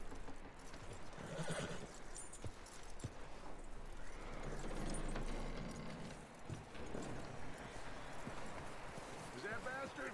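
Horse in Red Dead Redemption 2 whinnying and clip-clopping at a walk, hoofbeats and a neigh mixed into game ambience while someone speaks gently over them.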